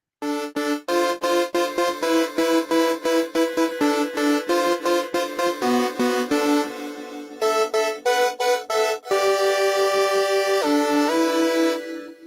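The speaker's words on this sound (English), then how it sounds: "So now we've got that kind of that power chord sound." A bright synthesizer, a Korg Volca Nubass or Volca Bass, plays a stacked power chord in rapid repeated stabs, then holds sustained chords, loud and close with no voices.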